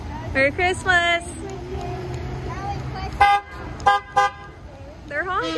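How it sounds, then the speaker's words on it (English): Several car horns toot in short bursts at a Christmas Jeep parade, some single honks and some longer blasts, close by, with excited voices talking and calling out between them. "They're honking, guys!"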